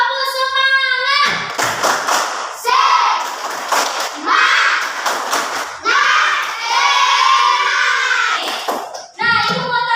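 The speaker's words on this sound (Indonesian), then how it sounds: "Ayo tepuk semangat." A class of schoolchildren performs a rhythmic spirit clap, sharp group claps alternating with loud chanted shouts close by in a classroom, while a teacher's voice leads between bursts.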